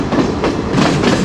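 A passenger train rolls along the rails on a scenic Sri Lankan route, with steady rumbling and rhythmic clickety-clack wheel beats heard up close from inside the crowded carriage.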